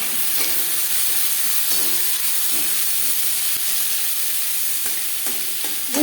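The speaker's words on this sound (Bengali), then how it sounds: "মাছ ভেজে নেওয়া কড়াইতে আবারও তেল দিয়েছি। দিয়ে দেব পেঁয়াজ, টমেটো, কাঁচা লঙ্কা।" Onion, tomato and green chili dropped into hot oil in a pan that fish was fried in, giving a loud, steady sizzle with occasional stirring clicks throughout.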